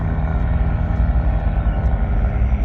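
Small aircraft motor labouring overhead on a windy coastal walk to a fishing mark, a steady, loud broadband drone that holds throughout without a break and masks everything else.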